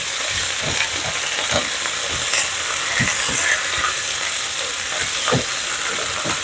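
Vegetables with salt and MSG sauté in a pan for a salmon dish, a loud continuous sizzle with frequent quick clacks of a utensil tossing and stirring.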